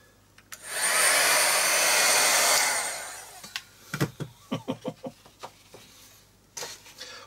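Heat tool blowing hot air over mixed media ink on an art tag, a steady whooshing hum for about two seconds, followed by scattered clicks and taps.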